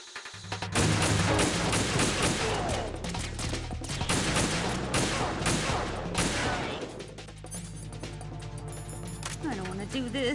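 Rapid bursts of sniper support gunfire from a distant firing position in Metal Gear Solid 2, loud dense volleys with crashing impacts, then quieter game ambience toward the end.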